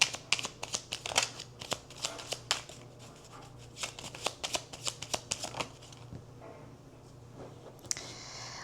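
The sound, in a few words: shuffling tarot cards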